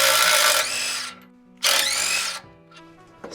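A power tool spins off two 19mm bracket bolts on a second-generation Tacoma's front suspension, two loud whirring bursts of about a second each separated by a short pause.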